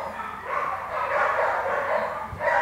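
A happy puppy yips and barks in short bursts, loud and close, with some whimpering mixed in.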